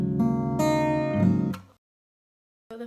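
An acoustic guitar tuned half a step down rings out in a strummed chord, struck again twice as it sustains, then cut to silence before a fresh strum begins.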